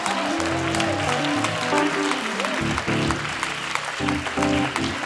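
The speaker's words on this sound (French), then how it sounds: "je pense qu'on peut l'applaudir" A crowd applauds steadily with dense, sustained clapping, while music plays underneath throughout.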